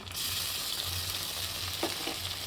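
Garlic paste hits onions frying in oil for a mutton keema ghugni, giving a steady, close hissing sizzle with a couple of light utensil knocks near the end.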